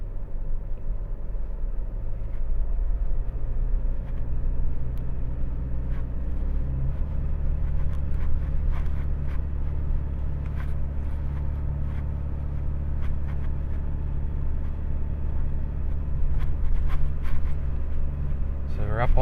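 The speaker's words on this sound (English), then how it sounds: "Car's revving out, gone around them" A car revs while driving through soft sand on Muriwai beach, its engine a deep, steady drone that climbs in pitch partway through, with a person talking over it.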